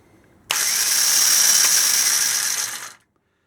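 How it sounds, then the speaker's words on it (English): New starter motor on an AAC 250 drag bike, wired to batteries and spinning freely off the engine, gives a loud, close, high-pitched whirring buzz for about two and a half seconds before winding down. "so if we hit the starter"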